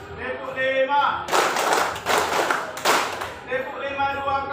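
Classroom children clap hands in rhythm, two loud clustered bursts of claps separated by a brief gap, with a teacher's voice speaking before and after.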